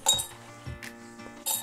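Glass jar clinking and knocking as pieces of zinc taken from batteries are dropped into it, several sharp chinks across a second and a half, fairly close, no voices.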